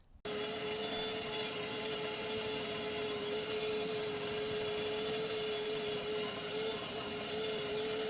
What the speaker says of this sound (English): we're going to vacuum all this up